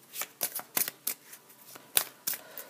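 Oracle cards are shuffled close up in a string of crisp, papery riffles and snaps, coming in quick uneven bursts with short pauses and no talking.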